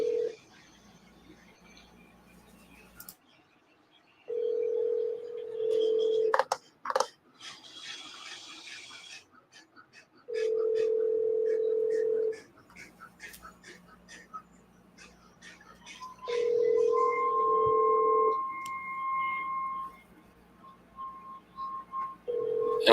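A phone call being placed: a steady tone and repeated ring tones come in long evenly spaced bursts, with clicks and keypad-like taps between them over about twenty seconds, moderately loud.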